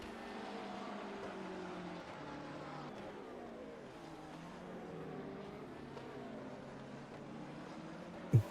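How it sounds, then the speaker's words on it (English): GT3 race car engines roar continuously in a racing video game at Laguna Seca, a steady mid-loud drone of shifting engine pitch, ending with a brief sharp thump. "Just hearing the roars of their engines"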